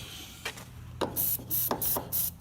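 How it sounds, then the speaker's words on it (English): An aerosol can sprays rust penetrant onto the rusted steering column of a 1965 Chevy pickup. Several short hissing bursts come in an uneven rhythm, close and fairly loud, with no talking. "got to get that sprayed down. Keep it sprayed down"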